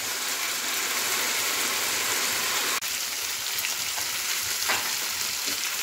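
Pieces of green hara chicken tikka fry in a pan with a steady, dense sizzle that holds evenly throughout, broken by one sharp tick near the middle and a brief soft swell of hiss shortly after.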